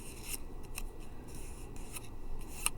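Scissors snip through paper in a handful of short, crisp cuts at an uneven pace, close and fairly quiet, with no talking.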